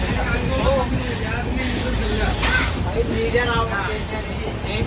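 Inside a moving night train travelling from Mumbai to Tirupati, a steady rumble and rattle of the carriage runs continuously while people talk over it.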